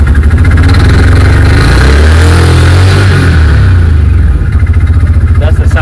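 Massimo Warrior 1000X 2022 EFI 4x4 UTV engine running steadily nearby just after a push-button start, a loud continuous rumble that swells briefly before settling back to idle.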